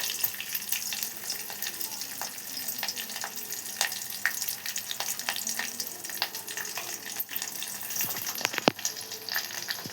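Turmeric, cumin and mustard seeds fry in hot oil, giving a soft, continuous sizzle scattered with small pops and crackles, fairly faint and steady throughout.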